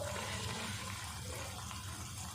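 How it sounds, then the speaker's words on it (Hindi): About a cup of water poured into a pot of moong lentil dal with fenugreek, a steady soft rushing splash that runs unbroken and fairly quiet. "अब पानी डाल देंगे तकरीबन 1 कप जितना।"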